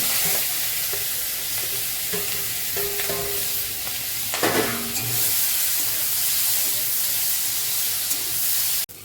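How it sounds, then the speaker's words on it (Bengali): Steady sizzling and crackling of prawns frying in hot oil, with occasional stirring clatter, continuous throughout at a close, even level. "চিংড়ি মাছগুলো সব ভেজে নেব সবগুলো একসঙ্গে দিয়ে"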